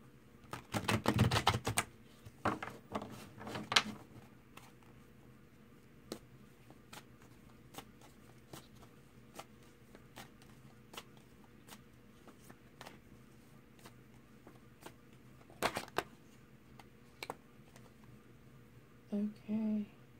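Quick bursts of tarot cards being shuffled and riffled, a flurry at the start then scattered taps and flicks, close and fairly quiet.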